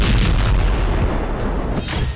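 Tank and artillery fire in the Israel–Gaza fighting, heavy low booming blasts with a rumbling roll at the start and another burst near the end, loud and alone.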